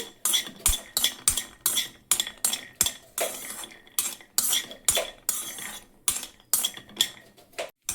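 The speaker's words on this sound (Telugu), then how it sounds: "కొంచెం నెయ్యి వేసి జీడిపప్పు ఫ్రై చేస్తున్నానండి" Cashews frying in ghee in a pan, stirred with a metal spoon that clinks and scrapes against the pan in a steady repeated rhythm, close and fairly loud, with a soft sizzle beneath and no talking.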